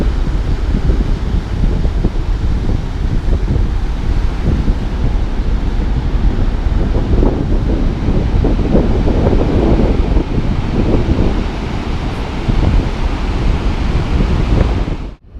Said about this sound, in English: The waves are pounding in on this side.